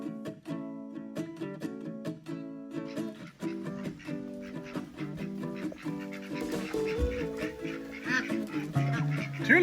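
Khaki Campbell ducks quack repeatedly in a busy, continuous chorus at close range, with honking geese and other birds mixing in toward the end.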